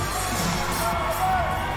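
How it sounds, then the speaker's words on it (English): Crowd at an N.E.W. wrestling show applauding and cheering, a loud sustained roar of clapping and whoops with a voice talking over it. "A rapturous applause for V from the N.E.W faithful."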